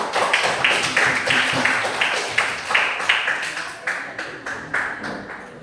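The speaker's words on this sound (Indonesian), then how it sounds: "tepuk tangan untuk kelompok 1" A classroom of students claps for a group that has just presented, loud uneven applause with clear individual slaps swelling and easing in waves across several seconds.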